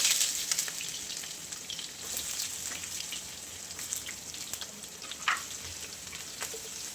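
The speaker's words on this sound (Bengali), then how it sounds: "এরপরে আদাটা একটু ব্রাউন হয়ে এলে রসুনের কুচি" Chopped ginger and garlic fry in hot oil in a home kitchen pan, a soft continuous sizzle with scattered crackles and pops and no talking.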